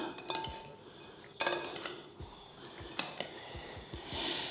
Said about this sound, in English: I'm going to get my scoop and gently mix in